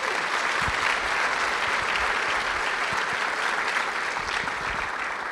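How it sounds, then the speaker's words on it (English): Steady, dense applause from a large audience at a design summit keynote, a continuous wash of many hands clapping at full strength for about five seconds. "Let's give another round of applause for all of our speakers in Biplab today"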